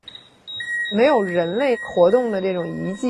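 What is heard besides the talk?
alarm device beeping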